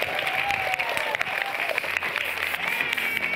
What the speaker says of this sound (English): Everybody give Dustin a huge round of applause.